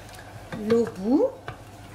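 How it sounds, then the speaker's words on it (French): Water boiling with rice in a pot: a soft, close bubbling sizzle lasting two seconds, mixed with brief vocal sounds. "L'eau bout."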